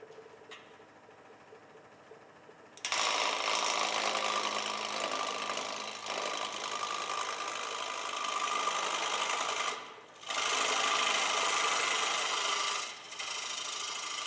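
A woodturning lathe running low on power at a woodturners' club meeting, starting abruptly and whirring steadily with a rasping tool-on-wood texture, briefly dipping twice before resuming.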